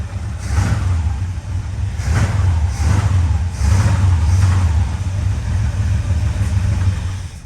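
A 1935 Plymouth car engine idling steadily in an enclosed space after a new carburetor was fitted, a continuous low rumble with slight surges, heard alone and close.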